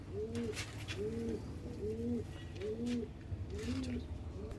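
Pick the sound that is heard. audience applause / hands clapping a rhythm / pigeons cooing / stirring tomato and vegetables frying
pigeons cooing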